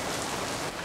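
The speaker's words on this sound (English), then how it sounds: "it's really starting to rain right now. I gotta go because it's starting to hail" Steady hard rain with small hail starting to fall, a dense continuous hiss that holds loud and even throughout with no voices.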